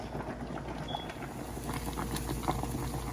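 Pot of water at a rolling boil with lasagna noodles cooking, a steady close bubbling hiss and burble with scattered pops, continuous throughout with no talking.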